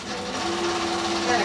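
A sewing machine runs a short back stitch on fabric while a stuffed pumpkin is being made, giving a steady close motor whine with a sustained tone under a voice talking over it.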